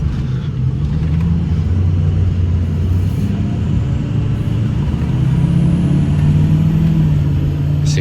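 Pickup truck with a suspected sticking brake caliper pulling away on a road, a loud continuous low engine rumble building as it moves off, close to the cab with faint hiss and a rising whine near the end.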